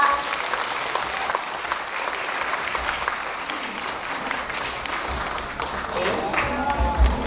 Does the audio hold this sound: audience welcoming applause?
yes